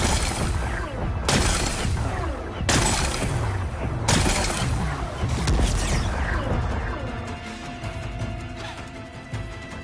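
Blasted rocks explode in Horizon Forbidden West, a run of loud, close crashes and shattering booms repeating every second or so, then fading into rumbling debris and a quieter tonal hum.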